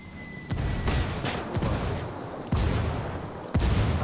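Mortar strikes and gunfire in a combat video game: four sharp, loud blasts roughly a second apart, each with a rumbling tail, over a steady bed of battlefield noise.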